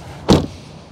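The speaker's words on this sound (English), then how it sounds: "Let's listen to the sound of the closing door. Oh, it's a heavy door." Heavy driver's door of a 2024 Chevrolet Blazer EV RS shutting once, a single close, solid thud with a short rattle tail, heard alone and fairly near.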